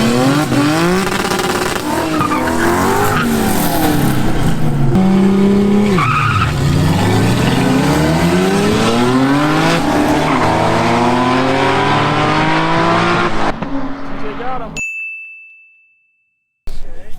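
Classic cars drag racing at Barona roar past at full throttle, engines rising and falling in overlapping sweeps with tire squeal, loud and close, before the noise fades and a brief electronic ding rings out.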